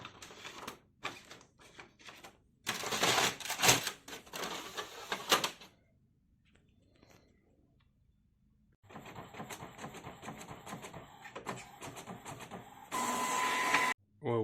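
An inkjet printer printing a black screen-printing transparency, with bursts of mechanical whirring and clattering separated by quieter gaps, and people talking at times.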